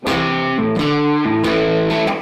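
A distorted electric guitar plays a short blues shuffle phrase, chords shifting up and back in a steady swung rhythm, loud and close.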